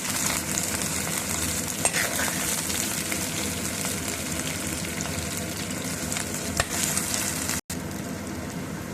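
Onions, curry leaves and coriander leaves frying in oil after mustard seeds have popped, for a beans poriyal, giving a steady close sizzle with occasional stirring clicks throughout, broken by a brief dropout near the end.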